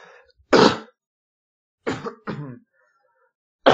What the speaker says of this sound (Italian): non taglierò questi momenti di tosse.